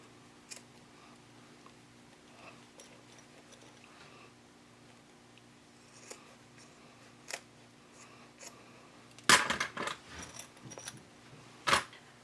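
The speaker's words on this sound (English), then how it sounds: "Start by trimming off the excess zipper on each side" Scissors trim the excess zipper on a sewing project. After a quiet stretch with faint handling noises, a few crisp snips and clicks come close together, and one more sharp cut follows shortly after.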